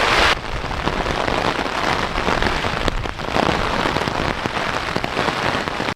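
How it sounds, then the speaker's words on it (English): Heavy rain and gusting wind battering a hiker's saturated canvas tent, a dense continuous drumming roar with brief lulls and surges, close and loud throughout. "The wind and the rain keep blowing in and kind of smacking us around a little bit"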